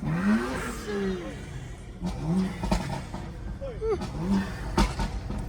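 A BMW M235i's engine and intake roar rise and fall through several revving pulls on a cold morning drive, heard from inside the cabin, with voices talking over it.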